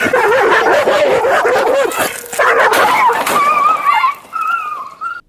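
A family dog barks and whimpers up close and loud, yipping bursts giving way to high, wavering whines and whimpers near the end.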